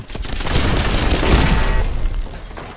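A loud explosion in the video game Fallout 4, a sudden burst with a rumbling, crackling blast that swells and then fades over a couple of seconds.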